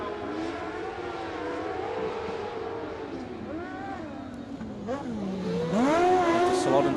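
Speedway motorcycles race on a dirt track, engines whining and rising in pitch as they accelerate and sweep past, growing louder toward the end, with a commentator talking over them.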